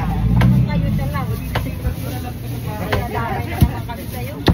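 Meat is cut by hand at a meat shop counter, a few sharp knocks against a board scattered through the clip under steady chatter and background traffic noise.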